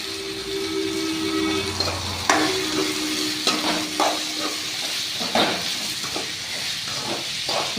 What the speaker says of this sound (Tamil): நல்லா கொஞ்சம் நேரம் உருளைக்கிழங்கு மட்டும் எண்ணெயில் நல்லா வணங்கட்டும்.